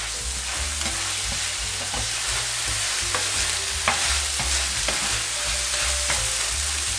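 A burger patty sizzles steadily in a hot pan, with occasional scrapes and light clicks of a utensil over the constant frying hiss.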